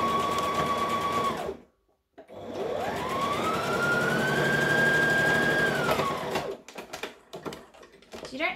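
A home sewing machine basting a sleeve piece, running in steady whirring stretches that speed up and slow, with a short silent gap, then ending in a few quick stitching bursts, close and loud.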